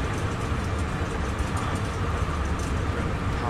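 Javelin high-speed train running at around 140 mph, heard from inside the carriage: a loud, steady roar of wheels and wind with rumbling low end and faint rhythmic rail clatter throughout, no talking.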